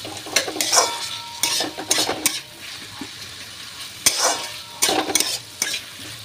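Onions frying in a pan on a gas stove, with sizzling broken by repeated stirring scrapes and clinks in irregular bursts and no talking.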